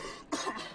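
A single short, raspy cough from a man recovering from a cough, close and fairly quiet, preceded by a brief low breathy murmur.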